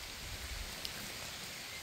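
Rain pours steadily on a roadside bivouac spot along a cycling tour, an even, soft hiss of drops on surfaces with one brief louder tap, no voices heard.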